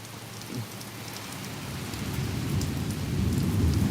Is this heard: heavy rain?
yes